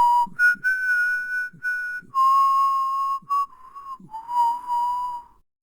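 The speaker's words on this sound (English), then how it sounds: "Now let's all look at me whistling, which is an acoustic instrument." A person whistles a clear, high tune of short and held notes, close and alone, ending in silence.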